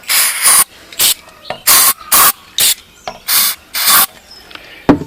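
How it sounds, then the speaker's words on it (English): A 1989 Briggs & Stratton 3HP engine with low compression is pulled over repeatedly, and the carburetor mists out. The result is about eight loud, close, hissing whooshes in an uneven rhythm, with quiet gaps between them. "I think you guys could see that it's actually belching out the carburetor"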